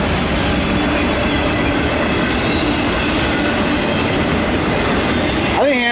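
A CSX Q277 freight train of empty autorack cars passes close by, a loud, continuous roar of rolling wheels and rattling cars with a faint squeal near the end.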